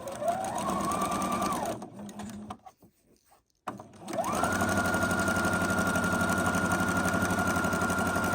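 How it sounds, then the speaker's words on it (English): A sewing machine stitches quilt seams with a steady, loud motor whirr that runs continuously, stops briefly, then starts up again and keeps running close by. "double check your seams, make sure they're folded down the correct way, and then sew away."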